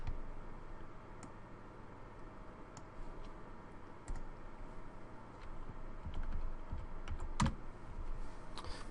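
Fingers type on a computer keyboard, producing a quiet, irregular patter of light key clicks over soft room noise, with one sharper tap near the end.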